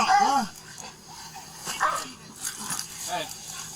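A police K9 dog barks and whimpers with a few short yelps during a chaotic bodycam scene, mixed under loud, agitated shouting from nearby people.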